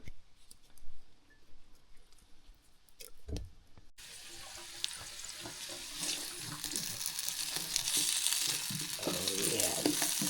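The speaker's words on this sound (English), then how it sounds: "Now we got to rinse the butter 2 times to get all the milk out of it" Water runs and splashes as freshly churned butter is rinsed to wash out the milk, quiet at first, then a steady rush of water with sloshing and handling sounds building toward the end.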